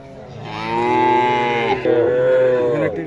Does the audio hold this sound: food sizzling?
no